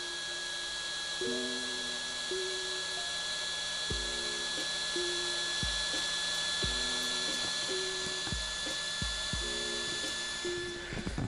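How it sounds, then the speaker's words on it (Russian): Cooling fan of an LED headlight bulb spinning up after warm-up, a steady close whir with a high tone on top and a series of stepped tonal rises repeating throughout, no talking. "это звук разгоняющегося вентилятора"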